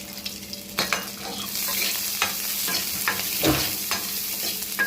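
Raw banana (plantain) being stir-fried in a pan, with a steady sizzle and the scrape and clatter of stirring, close by and with no talking.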